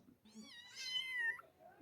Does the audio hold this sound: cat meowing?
yes